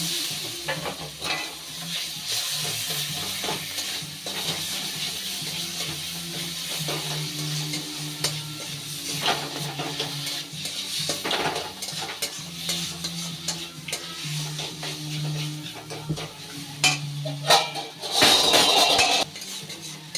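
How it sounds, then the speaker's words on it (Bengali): Raw banana paste with a pinch of turmeric is stirred and fried in a pan on a gas flame. Repeated close scraping strokes sound over a soft sizzle, with a louder burst of sizzling near the end. "এবার গ্যাসের আগুনটা বাড়িয়ে দিয়ে এটাকে খুব ভালোভাবে ভাজা ভাজা করে নেব।"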